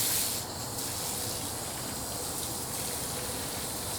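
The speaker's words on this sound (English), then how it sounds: "So let's bring in the hose and run a little water." Garden hose water runs steadily onto bonsai soil in a shohin liquidambar pot, a close, continuous broadband gush and hiss with a brief brighter spray at the start, no voices.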